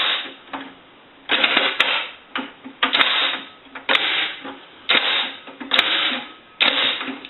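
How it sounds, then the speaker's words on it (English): The lock linkage inside a Bell rotary payphone sweeps as a key makes a quarter turn, heard as bursts of close metallic clanks, rattles and sharp clicks separated by brief quiet gaps. "you want to make sure that you hear the linkage sweep"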